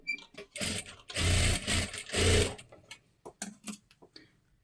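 A sewing machine runs a double line of stitching on a blouse tassel, starting with a few short clicks, then two long loud bursts of whirring, then several quick short runs and ticks, with no talking.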